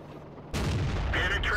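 A T69 tank's cannon firing in World of Tanks: one sudden, loud, heavy boom followed by a short rumbling tail and some mechanical clatter.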